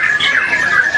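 Songbirds at a bird singing contest held by Kodam II/Sriwijaya deliver loud, close, continuous squawking chirps in a dense stream with no gaps.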